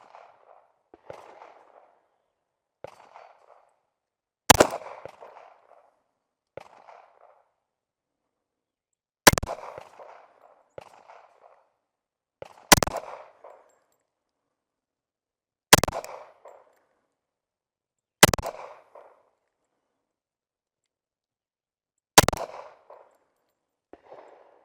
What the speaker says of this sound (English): I will be aiming for the head of the same target and see if I can really kind of feel out this gun a little bit more